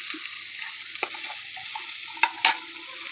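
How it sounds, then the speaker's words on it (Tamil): Onions with rock salt sautéing in a pan for a mushroom gravy, a steady close sizzle with a few sharp utensil scrapes and taps against the pan. "இப்போ வெங்காயம் நல்லா வதங்கி வர்ற வரைக்கும் வதக்கிடணும்"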